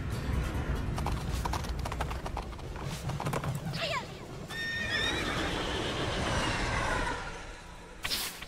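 A horse whinnies and hooves clip-clop steadily amid game sounds in Princess Peach Showtime!, with a person talking over it.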